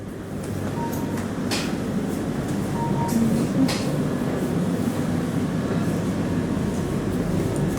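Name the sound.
HCMT high capacity train running on rails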